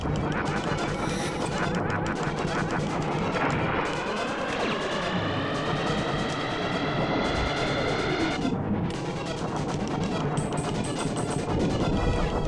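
Rapid laser and blaster fire from the Star Fox video game, with dense, continuous bursts of synthetic shots over a busy electronic soundtrack and rising whistling tones, loud throughout.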